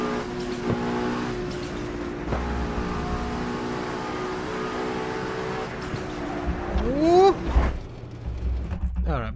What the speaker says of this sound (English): Just listen to that turbo.